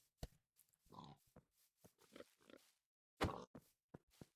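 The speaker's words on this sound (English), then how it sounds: "It's a lot of pigs." A pig in a video game gives a series of short, separate grunts and snorts, close and fairly quiet, with gaps of silence between them.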